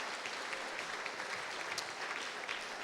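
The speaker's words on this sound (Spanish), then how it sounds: "Give the Lord a clap offering." Sustained applause from a church congregation during a bilingual service, a dense, steady wash of many hands clapping at moderate volume with no pauses or speech throughout.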